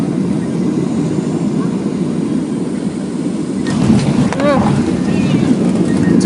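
A passenger airplane on final approach with its wheels down flies low over houses, a steady loud engine and wind roar heard from inside the cabin that swells in the last seconds, with people talking over it.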